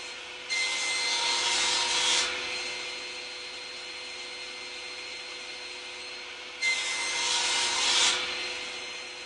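A pantorouter cutting slots into wood for a bearing, two separate bursts of loud, close high-pitched router cutting about a second and a half each, with a steady machine hum between them.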